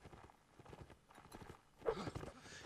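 Armoured warhorse hooves thudding in a Mount and Blade Warband line battle, a quick irregular clip-clop of several strikes, moderately near, swelling louder toward the end amid faint battle noise.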